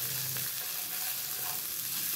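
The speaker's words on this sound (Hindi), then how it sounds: "इसको हम सोते कर लेंगे इसमें।" Small onions sautéing in a pan while chicken bread pockets are being cooked, giving a steady, moderately quiet sizzle and fry that runs evenly throughout with no voices.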